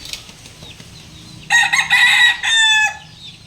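Five-month-old backyard chickens in a poultry pen, with a rooster's loud, close crow breaking out halfway through in two strained bursts over quiet, low farmyard background and soft clucking.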